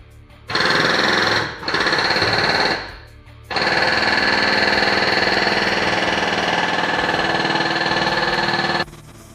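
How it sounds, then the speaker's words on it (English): A loud, rapid mechanical hammering drives a VIGOR wheel bearing tool set to pull in a new wheel bearing. It runs in a short burst, pauses, then continues steadily for several seconds before stopping. "And now I can pull in the wheel bearing,"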